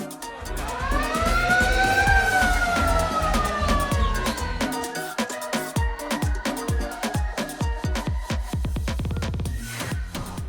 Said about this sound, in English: They intermittently turn up the music, they have a siren, and it gets really loud.